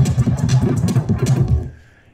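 Audio scrubbed in Pro Tools by turning a jog wheel on a Eucon Artist Transport: a loud, choppy run of garbled, stuttering fragments that rise and fall quickly, then cut off and trail into silence.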